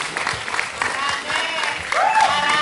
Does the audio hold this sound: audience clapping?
yes